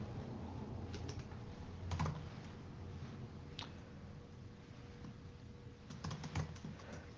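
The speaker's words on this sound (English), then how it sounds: "I'll type my little thing in here" Typing on a computer keyboard, a steady run of close, fairly quiet key clicks with a few louder bursts of keystrokes, over a low background hum and no talking.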